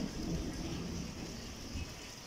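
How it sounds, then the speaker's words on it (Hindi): Thunder rumbles low and steady through monsoon rain, the downpour hissing across surfaces close by while the storm grumbles at a distance, with no voices. "बादल अभी भी गरज रहे हैं।"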